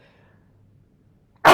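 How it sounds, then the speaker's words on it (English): A short pause of near silence, then one sudden, loud sneeze right at the end. "I'm going to sneeze just so you know."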